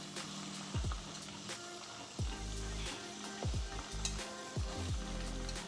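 Garlic, green chilies and onions sizzle and fry in a pan for fenugreek curry in coconut milk, a steady close crackle broken by several sharp stirring scrapes and clatters, with no talking.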